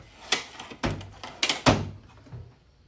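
Metal tool drawers in a garage slide and shut in a quick series of four hollow thunks and clatters, loud and close, then the room settles into quiet.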